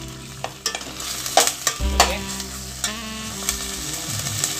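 Boneless chicken sautéing in a pan for a bottle gourd chicken curry, with a steady close sizzle broken by sharp spoon and pan clatters as the pieces are stirred.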